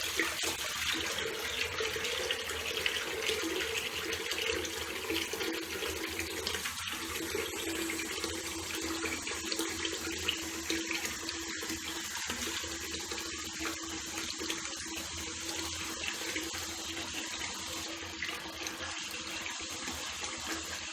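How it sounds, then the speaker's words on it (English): Tap water runs in a steady, continuous gush while hair is wetted, with faint splashing, fairly close and uninterrupted, no voices. "Best way to start, really, so you can get a view of your actual head,"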